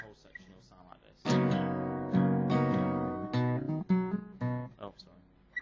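An acoustic guitar plays a strummed section of a song, with a quiet opening pluck, then bright full chords in rhythmic bursts with a slide, close and clear with no talking.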